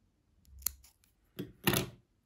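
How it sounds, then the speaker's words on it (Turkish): Scissors snip thread after needle lace work on a purple headscarf, with a quiet close snip followed by two crisper louder cuts in a quiet room. "burada artık bir makas yardımıyla ipimi kesiyorum"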